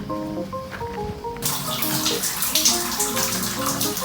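Water gushes steadily from a household bathroom tap, starting abruptly and running loud and continuous with a splashing hiss.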